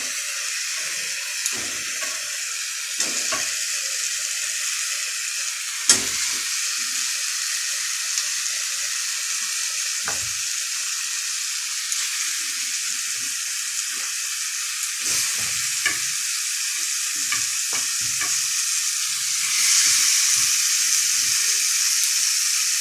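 Meat pieces frying in oil in a home kitchen pan, a steady close hiss with intermittent scraping and clattering stirs through the whole stretch, swelling slightly louder near the end.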